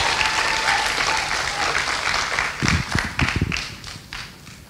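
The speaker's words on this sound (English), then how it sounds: "So let's have a round of applause for that." An audience applauds at a school music festival opening ceremony, dense clapping filling the room and thinning out toward the end, with no talk heard.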